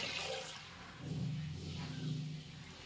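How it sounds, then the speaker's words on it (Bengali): Water swishes and pours as gandal leaves are washed in repeatedly changed water, a close sloshing with a couple of swells, no talking. "বেশ অনেকবার জল পাল্টে পাল্টে ধুয়ে নেব।"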